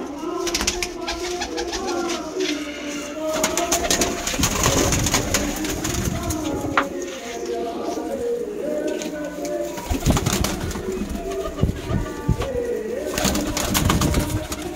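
Pigeons from a single loft, a sale flock of Malwai pigeons with purple feet, coo and murmur steadily throughout, with rustling and wing-flutter noises and some background voices mixed in.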